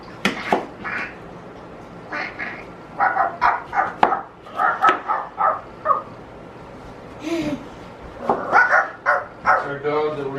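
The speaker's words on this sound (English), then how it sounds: "we're gonna have to put our bark collar on our dog over there" A dog barks in short bursts, several quick barks in a row, mixed with people talking nearby and kitchen clatter as zucchini is sliced and laid on freeze-dryer trays.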